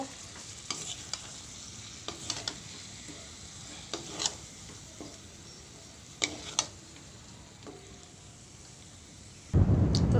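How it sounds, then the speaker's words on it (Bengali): Chicken coated with turmeric is stirred in a hot pan, with scattered scraping strokes of a spoon over a soft, steady sizzle, ending in a sudden louder clatter. "সবগুলো চিকেন এবার খুব ভালো করে নাড়াবো"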